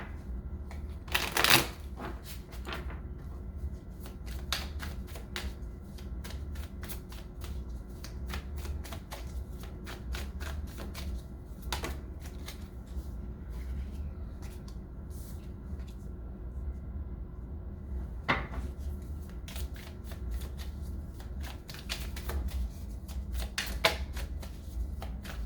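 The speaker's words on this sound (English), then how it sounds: "Let's go ahead and pull some cards, see what is going on." Tarot cards shuffled by hand for a three-party reading, with a long series of crisp riffles and card taps, close and moderately loud over a low room hum, no voices.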